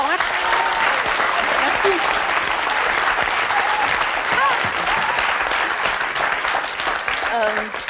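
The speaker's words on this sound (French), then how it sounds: "on peut l'applaudir très fort." A television studio audience applauds loudly and continuously in a French talk show, a dense crowd of clapping close to the microphones, while a voice briefly says thanks over it.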